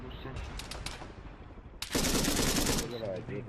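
Enemy gunfire in Arma 3 during a King of the Hill assault: a few scattered sharp shots early on, then a loud, dense burst of automatic fire for about a second, fading into trailing shots and a faint voice.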